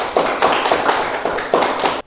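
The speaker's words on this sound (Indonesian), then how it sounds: "untuk kelompok 2 kelompok 3 kita berikan tepuk tangan" A classroom group claps for student groups two and three in a teacher-training class, the sharp hand claps coming in uneven bursts and swells throughout, close and fairly loud with no voices on top.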